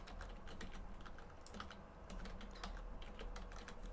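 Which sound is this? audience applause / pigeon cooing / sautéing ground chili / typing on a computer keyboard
typing on a computer keyboard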